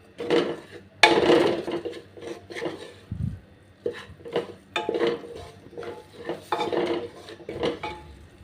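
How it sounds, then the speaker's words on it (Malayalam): A utensil scrapes and knocks against a cooking pan while stirring masala made with turmeric, chili powder, coriander powder, garam masala and meat masala. The strokes come in uneven bursts with short pauses, close and fairly loud, with no talk. "മസാല ഒന്നും കൂടെ നമുക്ക് നല്ലതായിട്ട് ഇളക്കി വെക്കാം."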